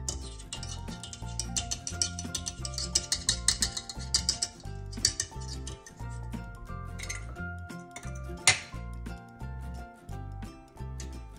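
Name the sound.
removing wire whisk attachment from mixer, metal clinking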